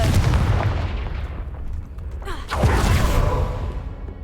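Fire-blast spell in the video game Hogwarts Legacy: a booming explosive burst with a whoosh, followed by a second blast and a fading rumble.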